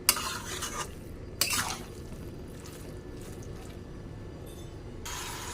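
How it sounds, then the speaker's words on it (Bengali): A spoon stirs cabbage curry with garam masala in a pan: a few sharp scraping strokes near the start, a quieter low rustle through the middle, and another scrape at the end. "এবার নাড়িয়ে নেব।"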